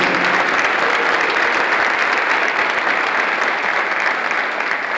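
Sustained applause from a large audience for finalists and winners, dense and steady clapping throughout with no voices standing out.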